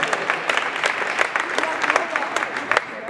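A school assembly crowd gives a round of applause, with dense, fairly loud clapping throughout and a few voices mixed in.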